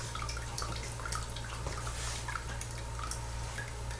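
Melted beeswax from honey cappings pouring into a pan, a soft trickling and dripping of liquid over a low steady hum, quiet and close, with no talking.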